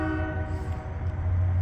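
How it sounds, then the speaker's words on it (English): A Union Pacific freight train rumbles close by while its horn blares in long, loud harmonic blasts, the low engine drone swelling toward the end. "here comes our eastbound train"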